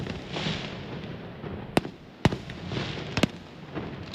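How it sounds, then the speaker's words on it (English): A fireworks display is heard at a distance: a steady crackle and hiss broken by several sharp bangs and pops at irregular intervals, fairly faint overall. "In addition, firework displays were held at 10 sites across the state."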